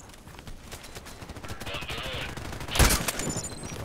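Game gunshots in Contract Wars: a few quick cracks, one louder close shot standing out near the end, amid faint background noise and some speech.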